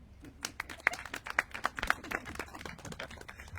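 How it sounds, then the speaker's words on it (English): A small group at an Earth Day kickoff press conference claps in scattered, uneven bursts, with sharp individual claps standing out near the middle before the applause thins and fades. "Please give a round of applause."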